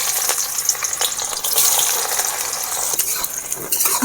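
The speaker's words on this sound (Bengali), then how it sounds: "তেল গরম হয়ে গেছে। এবারে আমি গোটা গরম মশলা দিয়ে দেবো, পেঁয়াজ কুচি দিয়ে দেবো," Whole garam masala spices and chopped onion fry in hot oil in a kadai, giving a continuous close sizzle and crackle with occasional stirring scrapes and no talking.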